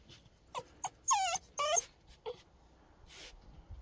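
A Jindo dog named Mimi whimpers and whines close by, a series of high, wavering cries with a few short yips between them, coming in uneven bursts against a quiet background.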